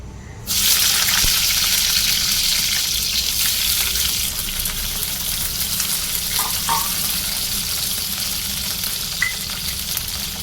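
Green chillies fry in a pan for mint chutney, a loud, steady, close sizzle that holds for the whole stretch with occasional stirring scrapes and small clinks.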